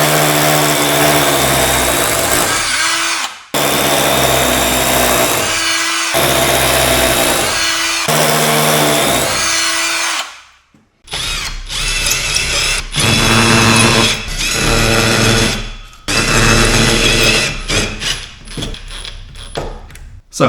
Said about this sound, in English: So I'm gonna get the power tools out and get started.